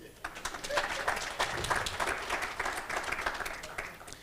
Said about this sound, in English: we need a clap for that